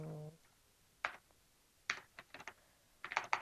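Bursts of computer keyboard typing while entering sign-up details for a forum host, clustered keystroke runs separated by pauses, fairly close and moderately loud with no talking.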